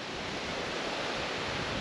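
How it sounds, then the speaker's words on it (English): Strong wind roars over a South Australian beach with grey surf, a dense, steady rushing noise with wind buffeting the microphone and no voices. "And the wind is pretty next level."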